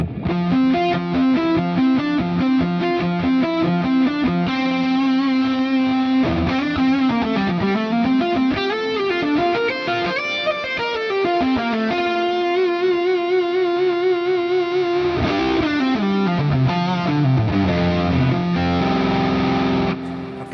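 Bright, heavily distorted electric guitar plays sustained chords and sliding bends through a boutique amp preset on an FM9 or Axe-FX, loud and continuous with a fizzy top end.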